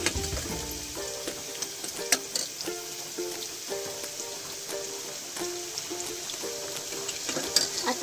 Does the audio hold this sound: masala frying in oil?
yes